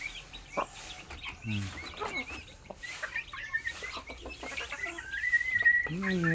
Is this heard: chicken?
yes